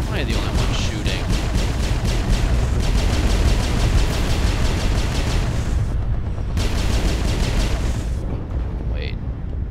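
Rapid video game gunfire, a steady stream of sharp repeated shots pounding loudly throughout, briefly pausing before resuming, with talk mixed in underneath.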